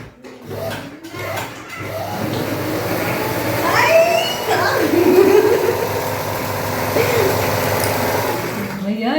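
A newly delivered electric sewing machine at home runs with a steady mechanical hum and whir, heard close while people talk over it throughout.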